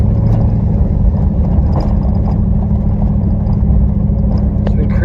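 An off-road vehicle crawls up a steep hill in low range, its engine a loud, steady low rumble with slight shifts in pitch as it changes gear, close to the listener.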